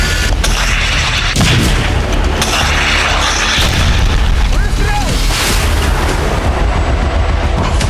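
Heavy artillery shelling in Sumy, Ukraine, with repeated loud booming blasts and sharp cracks across a dense, roaring background, several distinct impacts spaced irregularly over the span, with a voice faintly present in the mix.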